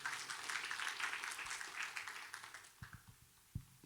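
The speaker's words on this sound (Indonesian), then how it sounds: "Boleh kasih tepuk tangan bagi Tuhan kita." A church congregation at an Indonesian worship service claps together, a broad patter of applause that thins out into a few scattered, separate claps toward the end.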